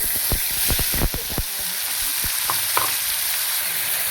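Onion and garlic paste fries in oil for a spinach and fenugreek dumpling curry, hissing steadily while a spoon scrapes and stirs through it in quick clustered strokes early on, then a few lighter knocks over the continuous sizzle.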